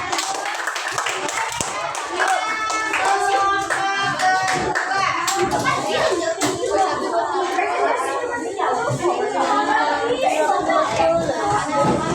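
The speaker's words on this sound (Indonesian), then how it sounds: "Selanjutnya beri tepuk tangan untuk orang" Classroom of primary school children at SDN 169 Palembang clapping hands together, a steady dense patter of many small hands mixed with children's chatter and voices throughout.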